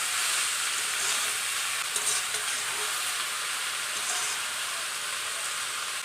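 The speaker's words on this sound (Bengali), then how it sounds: "এখন আমি এগুলিকে ভালো করে নেড়ে নেব" Fish head, potatoes and turmeric being stirred in a hot frying pan, a steady broadband sizzle with faint scraping of the spoon underneath, continuous and close.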